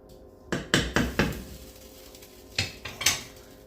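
Metal lid clanks down onto a pot of simmering grits with several sharp clatters, a pause, then a few more knocks and rattles, close and fairly loud, no voices.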